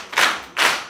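Two loud, broad bursts of clapping sound close by, about half a second apart, with no speech over them. The clapping is by children at a confirmation-preparation gathering led by a bishop.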